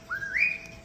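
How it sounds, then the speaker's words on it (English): A pet starling whistles a single bright note that slides upward and then holds, clear and close in a quiet room. "It's a new whistle."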